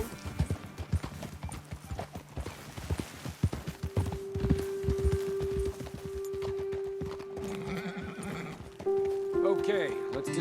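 Horses in the video game Red Dead Redemption 2, hooves clip-clopping in an uneven walk with a drawn-out neigh partway through, under light rain and game ambience, with voices talking over it.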